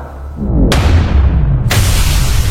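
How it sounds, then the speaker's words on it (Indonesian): A deep magical explosion booms loud and close, its low rumble sustained with two sharp bright onsets about a second apart, and no voices present. "Di belakang mereka, suara sihir meledak"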